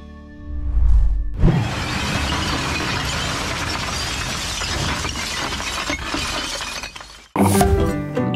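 Glass Coca-Cola bottles rejected for bubbles or deformities shatter in a factory, a loud sustained crash of breaking glass and tumbling shards lasting several seconds, then a sharp fresh burst of breakage near the end.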